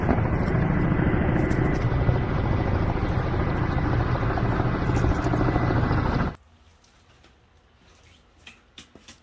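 Helicopter rotor and engine roar loud and steady overhead at a fishing pond, filling the first six seconds before cutting off abruptly, leaving quiet ambience with a few faint clicks.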